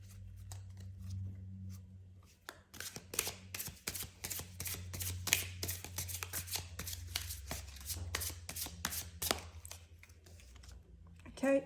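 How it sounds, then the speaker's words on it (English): Tarot cards are shuffled by hand in a dense run of quick, crisp riffling clicks and papery slaps close to the microphone, continuing for several seconds over a low background hum. "Now, I'm going to shuffle again."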